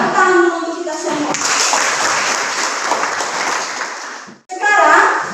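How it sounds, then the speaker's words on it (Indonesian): Classroom applause from students during a school teaching practice session, a dense burst of clapping filling several seconds, with children's voices briefly heard before and after. "Tepuk tangan dulu untuk kita semua"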